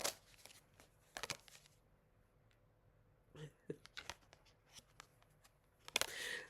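Soft, intermittent papery shuffling and flicking of tarot cards, quiet and close, with a few sharper bursts of riffling between pauses.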